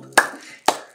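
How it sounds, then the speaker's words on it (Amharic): Two sharp hand claps about half a second apart, close and crisp, with no other sound between them. "አጨብጭቡ አጨብጭቡ አጨብጭቡ"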